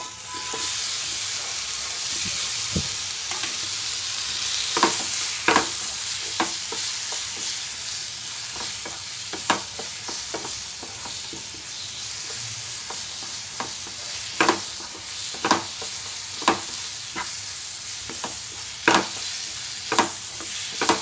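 Onion and chopped banana fry in a pan for vattayappam, a steady close sizzle with repeated sharp scrapes and taps of a stirring spoon, no voices.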